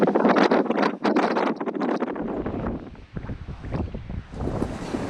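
Strong wind gusts buffet the microphone in loud, rough bursts at a harbor while sailing, easing slightly midway before picking up again.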